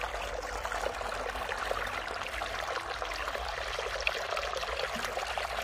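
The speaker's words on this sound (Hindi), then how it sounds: "देखें मोटर चलाई हुई है" Water rushes and splashes steadily from a running motor pump in a garlic field, over a low, constant motor hum, with no voices.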